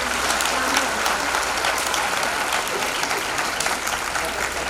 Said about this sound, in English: Please give a huge round of applause for